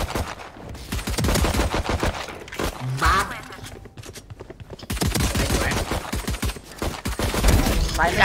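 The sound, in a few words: gunfire in Valorant video game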